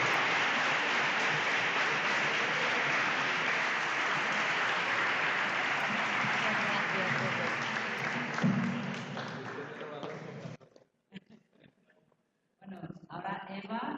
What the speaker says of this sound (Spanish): Y tenéis 20 segundos para aplaudir.